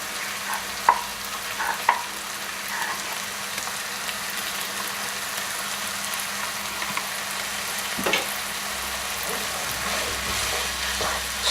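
Flour and tomato paste sizzling in a pot for a beef stew while being stirred, a steady soft crackling fry with occasional scraping knocks, close and without speech.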